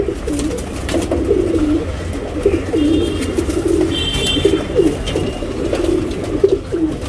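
Tournament racing pigeons cooing close by in repeated soft throaty phrases over a steady background rustle, with a few faint chirps mixed in.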